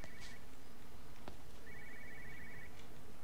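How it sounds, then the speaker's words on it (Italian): A telephone ringing inside the video game Everybody's Gone to the Rapture, a faint electronic trill heard in two bursts, the second longer, set against a low ambient hiss with one sharp click between them and no talking. "io sento un telefono suonare"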